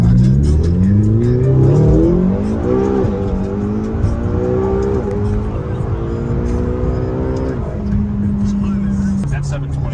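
A McLaren 720 GT accelerating hard with tire spin, its engine note climbing loudly through rising revs with a shift and then settling, heard from inside the car with a voice over it.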